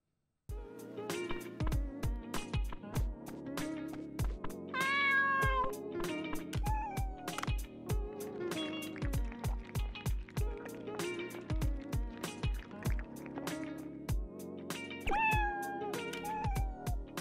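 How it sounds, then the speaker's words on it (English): Cats meow repeatedly in the Dave the Diver video game, bright cute mews recurring over a busy rhythmic game soundtrack with regular percussive beats. "We had to go feed the kitties."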